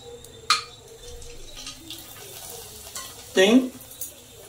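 Puris fry in hot oil, with a steady low sizzle and two sharp bursts of crackling as dough drops in and puffs, close by with faint background clatter.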